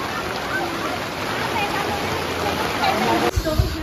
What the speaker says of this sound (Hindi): बहुत तेज बारिश स्टार्ट हो चुकी है